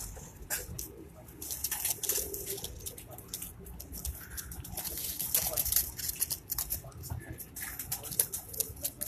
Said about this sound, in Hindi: ये कुछ बहुत बेहतरीन टेडी कबूतर।